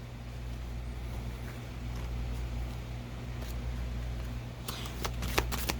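Oracle cards from a Sacred Rebels deck being shuffled, soft papery riffles under a low steady hum, with a few sharper card snaps toward the end.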